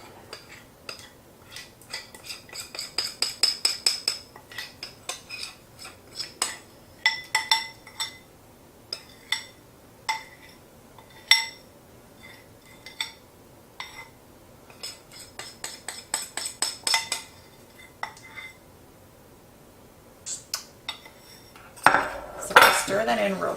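Melted bittersweet chocolate stirred into a mixture in a bowl, with quick, clinking strokes of a utensil against the bowl in uneven bursts, ending in a louder clatter, no talking.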